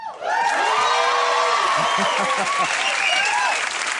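Lively studio audience applause with cheers and whoops for Rudy Giuliani on a late-night talk show, loud and continuous throughout with crowd voices riding over the clapping.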